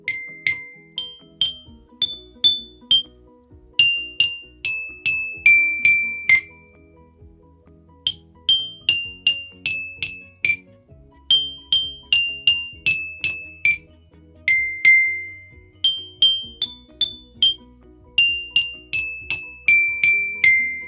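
A melody picked out by striking a row of drinking glasses with a small stick, bright ringing clinks in quick rhythmic runs with short pauses between phrases, close and clear, no voices.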